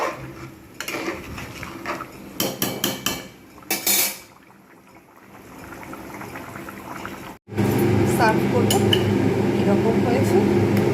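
Bengali mutton curry with potatoes simmering in a pot, with utensil clatter and a soft bubbling texture that gives way to a louder, dense steady bubbling wash near the end, while a voice talks over parts of it.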